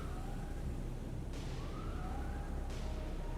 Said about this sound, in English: the sirens are the absolutely correct noise right now